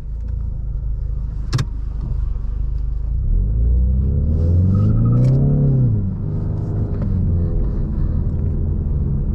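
A 2018-or-later Ford Mustang is driven, its engine rumbling loud and close and revving up in a rising then falling sweep with a sharp click early on, the deep drone steady throughout with no talk.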